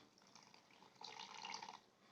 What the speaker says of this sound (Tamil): இந்த உளுந்து மூழ்கிற அளவுக்கு வந்து நம்ம தண்ணி சேர்த்துக்கலாம்